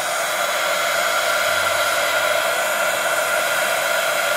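A heat gun used for scrapbooking blows hot air in a steady, loud, continuous broadband whoosh that holds without a break for the whole stretch.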